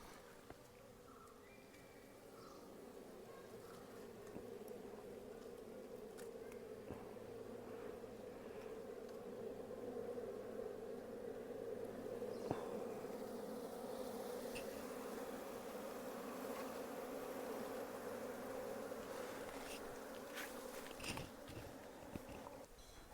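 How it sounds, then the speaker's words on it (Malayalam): Dense, steady buzzing of many honeybees fills the scene throughout as they are scooped into a hive box, close and continuous with occasional soft handling noises. "അപ്പം ഇനി നമ്മൾ തേനീച്ചകളെ കൂട്ടിലേക്ക് വാരിയിടുകയാണ്"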